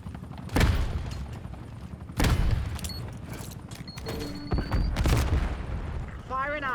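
Call of Duty video game gunfire, loud bursts and booming shots spread across several seconds, mixed with voice chat and in-game radio chatter.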